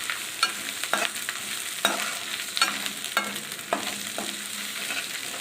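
Onion and crushed ginger fry in oil for a Bengali aloo dum, a steady close sizzle broken by repeated sharp stirring scrapes of a spoon against the pan every second or so.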